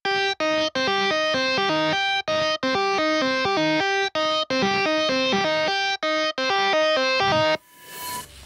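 A synth line played through the Goblin distortion plugin gives gritty, saturated sustained notes in a steady repeating pattern with brief gaps, loud and up front, ending in a burst of noisy hiss.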